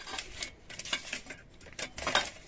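Camping cookware being handled close up: a small saucepan, lid, and folding cutlery, with light metallic clinks and scrapes in irregular bursts, quiet and with no talking.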